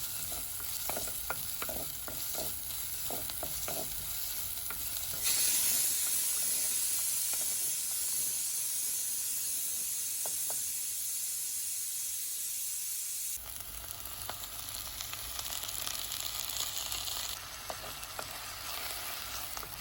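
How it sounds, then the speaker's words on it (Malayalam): Drumstick leaves cooking in a pan, stirred and then covered: a bright frying hiss with scattered stirring clicks, a stretch of duller steady steaming under the lid, then the louder sizzle returns, no talking. "മുരിങ്ങയില ഇട്ടിട്ട് നമുക്ക് ഒന്ന് ഇളക്കി കൊടുത്തിട്ട് അടച്ചു വെച്ച് വേവിക്കാം"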